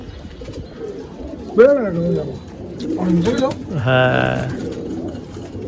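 Pigeons in a loft coo in rolling, throaty phrases close by, with a person speaking briefly among the calls over a low background murmur.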